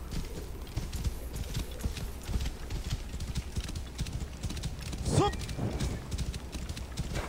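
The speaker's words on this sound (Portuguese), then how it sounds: "E dessa vez eu vou de cavalo, galera." A horse gallops in Assassin's Creed Origins, a steady rapid clip-clop of hooves running throughout over dense game ambience, with a brief rising whinny-like call partway through.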